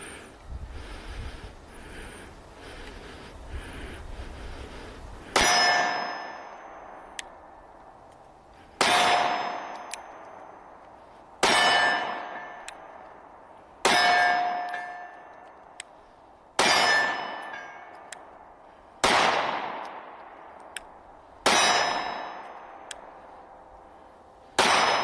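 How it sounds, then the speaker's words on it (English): A SIG Sauer P365 SAS pistol firing SIG V-Crown ammunition outdoors: seven sharp, loud reports spaced a few seconds apart, each with a ringing decay and a faint metallic clink after it. "P365 from SIG SAS, and we've got some SIG V-Crown ammunition. We'll be shooting it through now."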